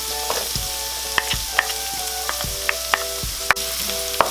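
Garlic frying with ginger in a pan as a steady sizzle, with recurring scrapes of stirring every second or so and a few sharp clinks of the utensil against the pan; no talking.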